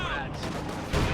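Strafing gunfire in a tabletop-style war strategy game, a burst of rapid overlapping shots under an excited commentator's voice, ending in a louder cluster of impacts.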